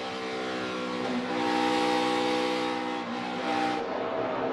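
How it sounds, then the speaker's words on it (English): A stock race car engine at an oval race drones loudly and steadily as the driver feathers the throttle, its tone rising and dipping slightly, with a sustained harmonic whine that fades near the end. "You hear the 23 of Gallagher having to play with a throttle over there"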